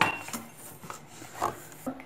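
Eggs and sugar being stirred together in a bowl for a tiramisu, with a spoon or whisk giving light, irregular clinks and scrapes against the bowl in a quiet kitchen.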